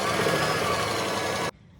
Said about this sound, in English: we'll sew from the pin to the edge with a 1/2 seam allowance in between